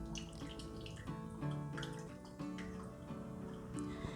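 Water is poured slowly in small amounts over coffee grounds in circular motions, a soft continuous trickle with faint splashes and drips, close by with no talking.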